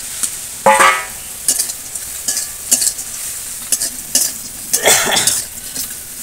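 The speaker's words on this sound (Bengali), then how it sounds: "মশলার সঙ্গে মাছগুলো আর একটু ভেজে নেব" Small puti fish fry with spices in a pan while a utensil stirs and scrapes at intervals, producing sharp clinks over a steady frying hiss.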